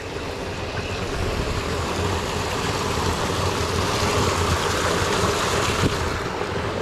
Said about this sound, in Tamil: தண்ணி ஓடிது கீழே.